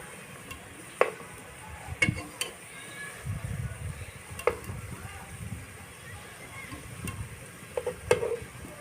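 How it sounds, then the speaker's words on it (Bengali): Pea lentil fritters (piyaju) fry in hot oil with a low bubbling sizzle while a utensil turns them, giving occasional sharp taps and scrapes against the pan, close and moderately quiet. "এখন একটু সময় নিয়ে আমি উল্টিয়ে পাল্টিয়ে ভেজে নেব একটু সময় নিয়ে ভাজবো যাতে মুচমুচে হয়"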